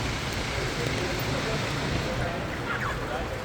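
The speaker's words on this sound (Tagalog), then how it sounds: "Lakas ang ulan." Heavy rain pouring on a bad-weather morning in Sydney, a dense steady hiss of falling water filling the whole scene, fairly loud and unbroken.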